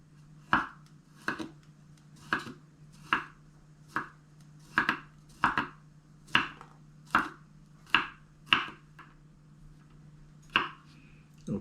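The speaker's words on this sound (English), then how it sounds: "8 cloves of garlic. I'm gonna slice half of it" Garlic cloves are sliced with a knife on a cutting board, about a dozen crisp, evenly spaced chops close by over a steady low hum, with no talk.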